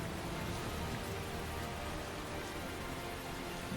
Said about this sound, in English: it's raining over here